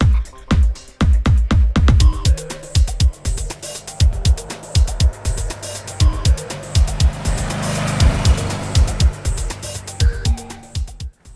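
A 2011 Kawasaki W800 retro parallel-twin motorcycle rumbles loudly at close range, with repeated throttle blips giving sharp pulsing revs, then a steadier rising run before more blips.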